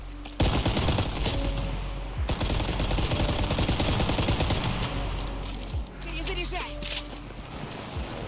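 Rapid bursts of 37mm cannon fire from a LaGG-3-34 fighter in an air-combat video game, loud and dense throughout, sounding almost continuous with brief gaps, with engine rumble underneath.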